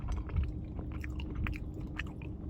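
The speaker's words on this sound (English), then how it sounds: "You can kind of hear me chewing on the nuts a little bit" Quiet, close chewing with soft crunches and wet mouth sounds, a steady irregular rhythm of bites over a low background hum.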